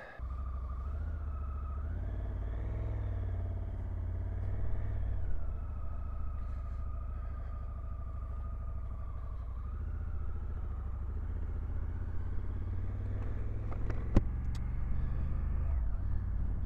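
A 2024 Honda CRF1100L Africa Twin with a manual clutch being ridden, a steady low engine rumble with gentle rises and falls in revs, a sharp click near the end, no talking.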